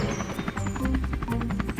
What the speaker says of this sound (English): Oh no! It's a helicopter!